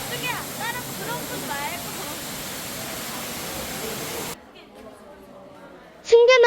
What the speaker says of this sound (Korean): 승규와 소원이도 폭포 밑에서 사진을 찍습니다